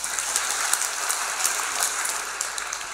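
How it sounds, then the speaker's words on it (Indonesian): A seminar audience claps steadily, a dense, crackling patter of many hands at moderate level with no voices over it. "Tepuk tangan."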